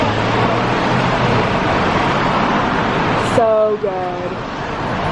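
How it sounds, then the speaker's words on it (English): Roadway traffic rumbles steadily outside a cafe, a constant broad wash of passing vehicles, with a brief voice speaking over it near the end. "I don't even know if you guys can hear me over the noise of the traffic"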